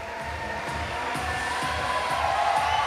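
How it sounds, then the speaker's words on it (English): Steady crowd noise at a lead climbing World Cup final in Atlanta, a dense continuous roar of cheering and shouting that swells slightly toward the end, with no clear voices standing out. "The crowd are really getting behind her here now."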